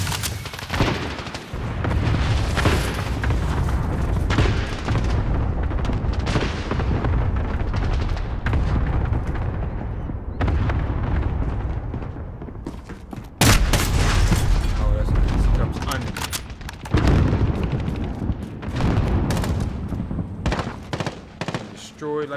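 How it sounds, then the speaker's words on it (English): Cluster strike explosions rain down in Call of Duty: Modern Warfare online play, a long, loud run of booms and gunfire with sharp bursts breaking in repeatedly, while voices speak throughout. "Enemy cluster strike."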